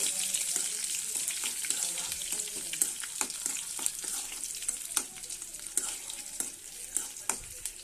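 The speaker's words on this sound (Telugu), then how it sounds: "వెల్లుల్లి కూడా ఎంచుకుంటున్నాను" Garlic fries in a pan with a continuous crackling sizzle, punctuated by sharp scraping stirs and clicks of a utensil throughout, close and fairly quiet.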